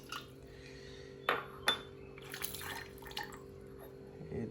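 Water for tea, about one and a half cups, pours into a metal pot with a soft rushing splash, after two sharp clinks of metal, all over a steady low hum.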